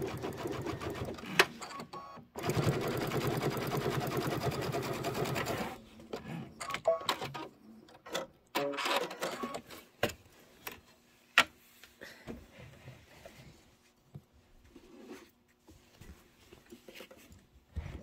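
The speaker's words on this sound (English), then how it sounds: "I'm just going to sew right off into the batting." Sewing machine stitching a quilt off into the batting, a steady dense whir for several seconds near the start, then scattered clicks, taps and handling noises as the stitching stops.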